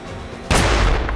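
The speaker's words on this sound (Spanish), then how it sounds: "La primera explosión ha destruido la botella." A plastic bottle filled with HHO hydrogen gas explodes with a single loud, sharp blast in an open area, following a brief lower rumble and ringing briefly afterward.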